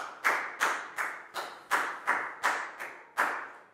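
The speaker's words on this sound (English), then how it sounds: "a big round of applause for Prel" A classroom of Year 4 pupils claps for a student in a math lesson, with nine sharp, evenly spaced bursts of clapping close by, each swelling and fading in a steady rhythm.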